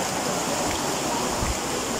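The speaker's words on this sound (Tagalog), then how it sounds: "Lakas pala ng current." A strong river current rushes steadily and close at hand, a dense unbroken wash of flowing water with no talk over it.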